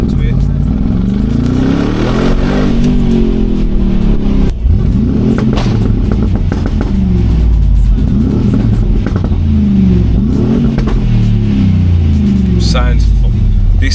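A roughly 3-ton Mercedes G-Wagon engine revs hard in repeated loud, close bursts, deep rumbling rises and falls with a clattering edge, and brief voice sounds in between.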